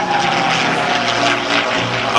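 Propeller aircraft sweep across the sky at an air show, a loud, steady, droning roar of engines and airscrews that fills the whole moment without pause.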